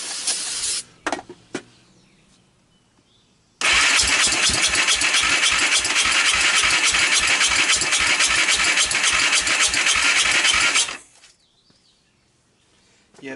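A Honda TRX300EX ATV with a swapped carburetor and CDI, running badly and likely flooded, cranks for about seven seconds in a loud, rapid, even chugging rhythm without catching, preceded by brief bursts and followed by quiet.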